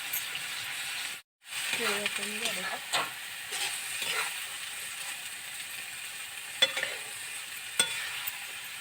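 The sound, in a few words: sautéing masala with cooked peanuts in a pan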